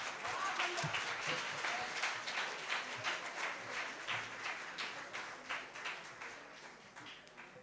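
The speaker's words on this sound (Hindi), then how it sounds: "मैं आपकी तालियों के लिए धन्यवाद करूंगा नहीं" An audience at the Hindi Yuva Sangam event at the Nehru Centre applauds a poem recital with steady, moderately loud clapping that lasts throughout and eases slightly toward the end.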